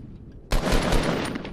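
Sniper rifle fire in Fortnite Battle Royale: a sudden loud report about a third of the way in, followed by a dense, sustained burst of gunfire and rumble that lingers near full volume.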